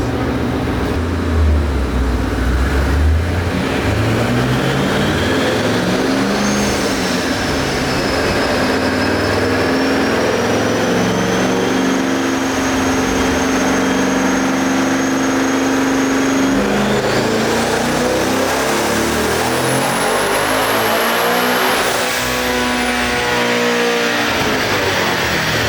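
Twin turbo Boss 302 V8 on a dyno pull, a loud sustained close-up roar that climbs steadily in pitch with a rising turbo whine and a high whistle near the end, no speech.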